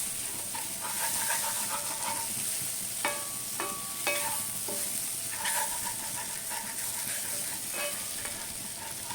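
Okra masala sautéing in a pan gives a steady close sizzle and frying hiss, with a few sharp spoon-and-pan clicks from stirring scattered through.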